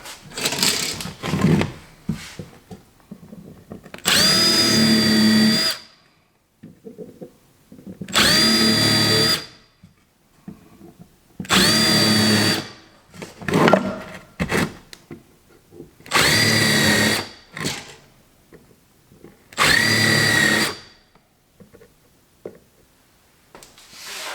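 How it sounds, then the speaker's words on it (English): A power drill countersinking holes in wood for a folding BBQ prep table, five loud whirring bursts of a couple of seconds each, evenly spaced with quiet handling noise between them. "Now I do some countersinking."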